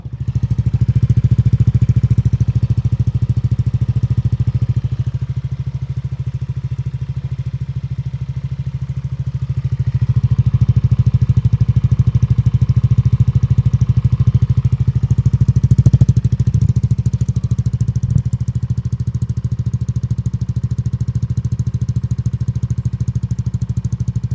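A motorcycle fitted with a G-Racing aftermarket exhaust pipe idles with a deep, steady low throb and a faint backfiring crackle, loud and close, swelling slightly at times.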